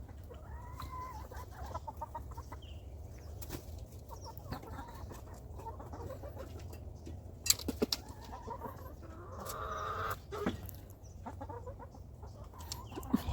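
Backyard chickens cluck and peck while eating persimmon and bread, soft close clucking and murmuring calls throughout with occasional sharper pecks and rustles, over a low outdoor background.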